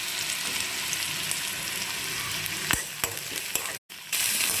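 Onion sizzling and frying in a hot pan for egg fried rice, a steady loud crackle with a few sharp stirring clacks near the end and a brief pause before the sizzle resumes.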